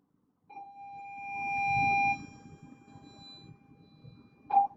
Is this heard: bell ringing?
yes